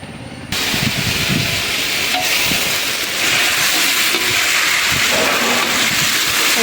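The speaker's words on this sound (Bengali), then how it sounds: "এই মুরগির মাংসগুলি ভাইজা নিতেছে, ভাইজা খিচুড়িতে দিলে ওটা ভালো হবে।" Chicken pieces frying in oil for khichuri at a small family gathering, a loud continuous hiss and sizzle that starts abruptly and holds steady throughout, close up, with faint clatter underneath.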